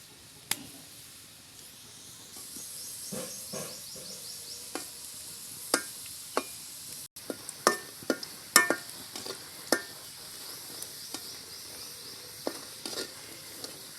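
Murli (goja) dough pieces frying in hot oil, with a steady soft sizzle broken by irregular sharp crackles and pops, moderately close, with no talk.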